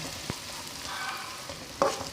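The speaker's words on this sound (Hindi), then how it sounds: "जैसे ही हमारा कुकिंग ऑयल गर्म हो जाएगा तो हम इसमें प्याज डाल देंगे।" Onions frying in hot cooking oil in a wok, a soft continuous sizzle with a couple of faint stirring clinks, quiet and close, no talk.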